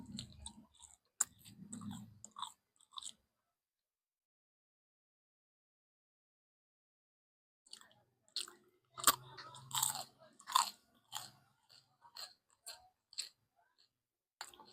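Someone bites and chews a crispy turon, a Filipino banana fritter, close to the microphone, with bursts of crunchy crackling, a silent pause, then a second run of sharp crunches.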